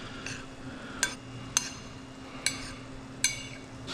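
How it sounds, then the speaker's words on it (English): Cilantro lime rice being gently mixed in a bowl, with soft stirring and a few sharp utensil taps against the bowl rim at a steady, unhurried pace. "I'm gonna just gently mix up our lime rice here."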